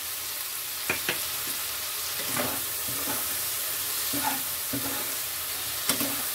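A ground paste of poppy seed, mustard and garlic with turmeric and Kashmiri red chilli fries in a pan for a prawn and okra dish, steady sizzling under several short scrapes of a spatula stirring it.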